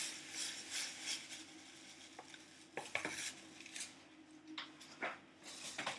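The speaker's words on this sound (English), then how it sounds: "We mix until the butter and the sugar is dissolved into one paste." Butter and sugar stirred together in a bowl for Caribbean black cake, a continuous scraping and rubbing of utensil against the bowl with occasional clinks, close and moderately loud, no talking.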